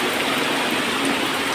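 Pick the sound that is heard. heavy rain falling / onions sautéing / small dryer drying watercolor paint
heavy rain falling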